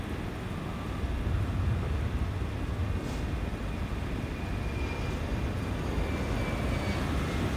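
Jet engines of a 1989 aircraft roar in a steady, dense rumble that swells slightly as they build toward takeoff power, heard continuously without speech.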